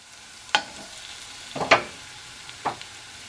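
Chunky garlic pieces sautéing in a pan toward golden brown, with a low background sizzle broken by three scraping stirs of a utensil, the middle one longest and loudest.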